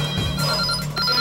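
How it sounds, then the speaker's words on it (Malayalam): A telephone rings with a steady, bright electronic tone, filling the whole short moment without any voices. "നിനക്കാ ഫോൺ"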